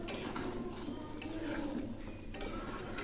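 Aloo potol curry stirred in a simmering cooking pot, soft scraping and metallic clinks of a spoon against the pot over a low bubbling, close and quiet.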